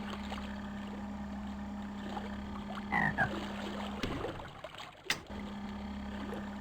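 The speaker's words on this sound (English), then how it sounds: "he also does like frog noises" Frog croaks from the Seaman video game, a few low croaking calls over a steady electronic hum and watery ambience, moderately quiet with no talking.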